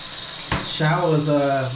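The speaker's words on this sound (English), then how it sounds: "let's turn on the water" Water starts running from a freshly cleaned shower head, a sudden hiss breaking in after a brief pause and continuing steadily, with a voice talking over the spray.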